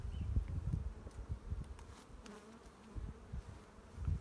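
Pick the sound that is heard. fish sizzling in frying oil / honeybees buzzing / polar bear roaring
honeybees buzzing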